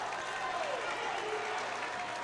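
A high school basketball crowd at a Friday night Greensburg versus Cathedral game cheers and applauds in a steady, dense roar that fills the whole moment, with a faint whistle-like tone gliding through.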